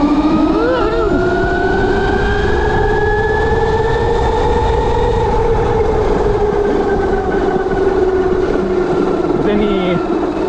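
A NIU XQi3 electric scooter runs in Ultra Boost mode on a trail, its motor giving a steady, loud, close whine that holds a high tone across the whole stretch with slight pitch swells.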